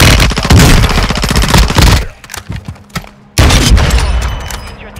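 Loud bursts of rapid automatic gunfire from the video game Call of Duty: Warzone 2.0, a sustained volley that drops out briefly, leaves a few scattered shots, then resumes at full force.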